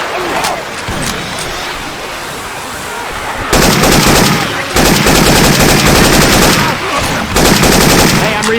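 Syphon Filter weapon sound effects in Left 4 Dead 2 gameplay: loud, close automatic gunfire in long rattling bursts with brief gaps between them, over dense game noise.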